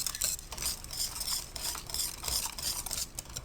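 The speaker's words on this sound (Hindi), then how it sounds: "थोड़ा सा हाथ पे मसल लीजिए और डाल दीजिए, अच्छी तरह से मिक्स कीजिए इसमें" Whole garam masala is mixed into raw chicken for spicy tawa chicken, giving a close, rhythmic run of wet stirring and scraping strokes, about six or seven in a row, with no talk.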